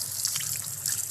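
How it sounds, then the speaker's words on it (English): Water sprayed onto a bicycle's gear and chain during a wash, a brief steady hiss and trickle of liquid close by with no voices. "spraying water on the gear, on the chain"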